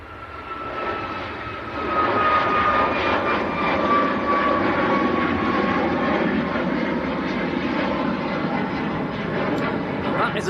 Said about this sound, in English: Next to depart is a Ryanair going out to Tirana.